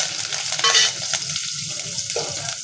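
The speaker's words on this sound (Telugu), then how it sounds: "గోల్డెన్ కలర్ వచ్చేంత వరకు అలా ఫ్రై చేసుకోవాలి" Onion and curry leaves fry in hot oil with mustard seeds, cumin and fenugreek, a loud close hissing sizzle with a brief stirring scrape.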